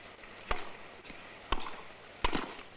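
A tennis ball is struck during a 1965 Wimbledon women's final rally between Margaret Smith and Maria Bueno, giving three sharp, distinct pops spaced about a second apart over a thin, old-broadcast background hiss.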